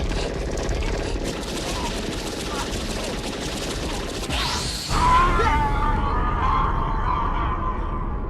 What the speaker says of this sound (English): the firing squad finally starts landing bullets and hits him with the fatality